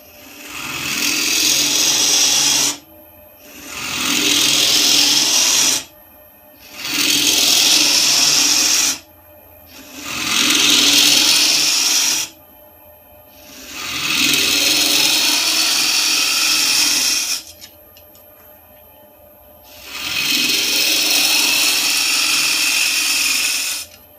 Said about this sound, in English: just to take some of the stock out of the middle of the lid with a spindle gouge.